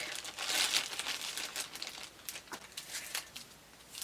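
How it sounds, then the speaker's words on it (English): A plastic drawstring baggie from a beauty subscription box crinkles as it is opened, giving a soft, close rustling with scattered brief crackles and no voices. "another drawstring baggie, but this one's plastic"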